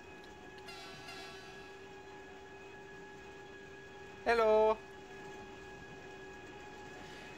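Train in Trainz Railroad Simulator 2019 on the Pilzbergbahn Railway, heard as a steady rumble with sustained tonal hum, punctuated by one short loud horn-like blast midway; a brief spoken greeting occurs near the start.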